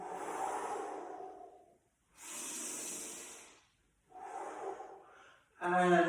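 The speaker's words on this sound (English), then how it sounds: "deep breath in." Slow, deep breaths during a shoulder-focused breathing exercise session: a long inhale, then long exhales, heard close and loud, each breath separated by brief silences, ending with a sharper audible breath.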